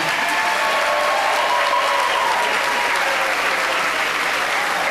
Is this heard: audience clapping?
yes